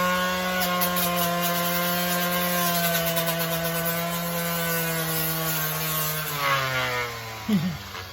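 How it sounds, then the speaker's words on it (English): A high-power sanding machine works a carved wooden walking stick, giving a steady close motor whine that holds for several seconds, then winds down and drops in pitch near the end. "That's a high power machine."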